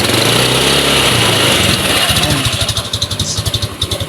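A motorcycle engine fitted with a D-type part cranks and catches, settling into a rough, pulsing idle close by, with loud mechanical noise throughout.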